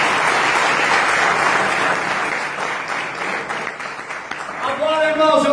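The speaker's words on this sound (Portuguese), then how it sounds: "Será que você pode aplaudir esse Jesus aí, cara?" A church congregation applauds with dense, steady clapping that gradually thins, and a voice starts speaking as it dies away.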